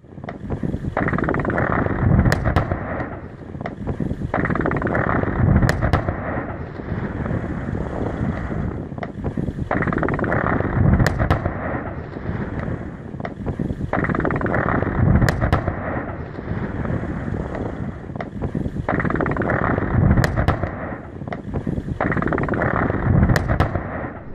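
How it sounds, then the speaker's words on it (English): Rock blasting in a coal mine: repeated deep booming blasts roughly every few seconds, each a broad low rumble with sharp cracks, over a constant windy roar. "Each explosion can create thousands of cubic meters of rock."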